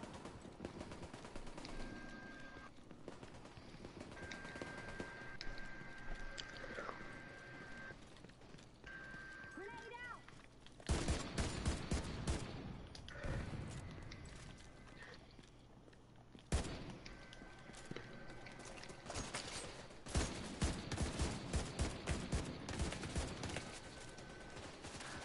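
Gunfire in the shooter The Division 2, quiet rattling bursts and shots scattered through game ambience, with sharper volleys partway through, with faint talk in places.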